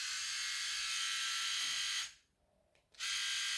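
A Silvercrest SRR 3.7 C3 rotary shaver runs with a loud, steady high buzz that drops out for about a second, then starts again just as strongly.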